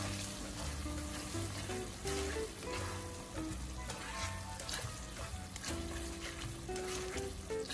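Bopis in a pan sizzles steadily as its liquid reduces and the fats render, a dense, continuous frying crackle with no voices over it.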